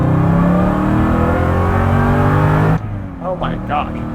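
A Revology 1968 Mustang Fastback Cobra Jet with 710 horsepower accelerates hard, its loud engine roar steady and close for nearly three seconds before cutting off abruptly, followed by someone speaking over a quieter background.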